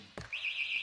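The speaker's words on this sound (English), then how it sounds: "You heard that buzzer?" Shot-clock buzzer at an indoor archery competition, a single sustained electronic tone that wavers slightly, starting just after a brief thud and heard fairly close.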